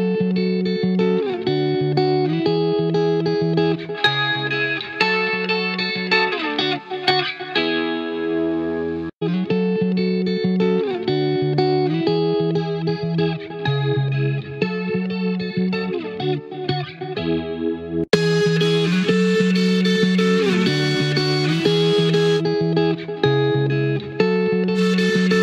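An electric guitar through the United Plugins Cyberdrive distortion plugin plays a riff of sustained, gritty chords, with a brief pause midway and a brighter, harsher tone near the end.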